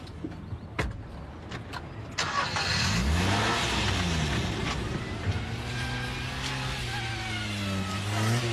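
A stolen red Ford Fiesta pulls away, its engine revving up and holding a steady, loud mid-pitched drone as the car accelerates, with a few sharp clicks near the start and no talking.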